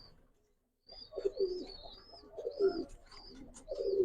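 White Hungarian Budapest pigeons coo close by in a few soft, rounded bursts, with brief chirpy calls over a quiet room.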